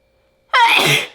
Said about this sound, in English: I'm gonna sneeze it, I think.